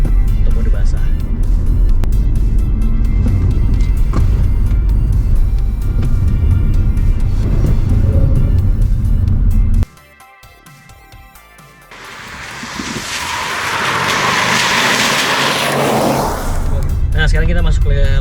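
A Mitsubishi XForce drives a slalom on a wet test track, its engine droning under continuous talk, then a short near-quiet gap before a loud rushing swell of tyre spray and wind noise.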